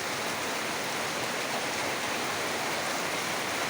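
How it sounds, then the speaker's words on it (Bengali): Heavy rain pours down in a steady, unbroken hiss, even and fairly loud throughout with no voices. "বৃষ্টিটা এখনও কমেনি"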